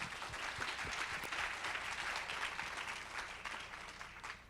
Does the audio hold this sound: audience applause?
yes